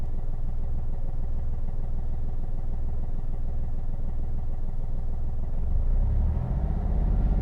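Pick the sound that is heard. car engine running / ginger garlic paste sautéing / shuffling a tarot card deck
car engine running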